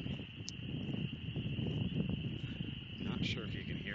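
Loud, continuous insect chorus, likely crickets, fills Oxford Woods with a steady high-pitched drone, accompanied by footsteps and rustling while walking through the forest.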